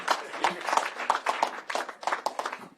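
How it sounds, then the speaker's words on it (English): An audience claps in applause at a Florida teacher pay raise event, a dense run of hand claps with uneven surges lasting a few seconds, moderately loud and close. "Yeah, you can clap for that."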